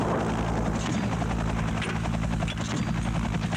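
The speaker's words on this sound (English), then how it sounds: "An Afghan Air Force Mi-8 attack helicopter arrives." An Afghan Air Force Mi-8 attack helicopter arrives with a steady, pulsing rotor thump and turbine whine, moderately distant and constant throughout, with no voices.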